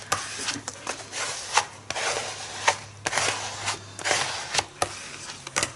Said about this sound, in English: I'm going to take my little scraper here and just kind of go over her and make sure that we've got all of the air out